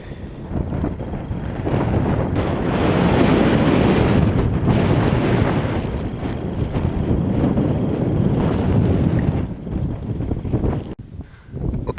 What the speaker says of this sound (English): Now here I am at the top of a very windy Titterstone Clee.